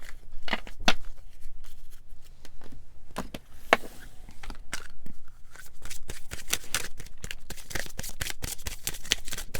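Tarot cards being shuffled in a steady run of crisp riffles and slaps, close and clear with no talking.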